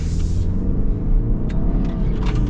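Turbocharged engine of a 2023 Subaru Ascent SUV pulls under acceleration, a loud, rough continuous rumble with rising engine tone heard from inside the cabin, no talk over it.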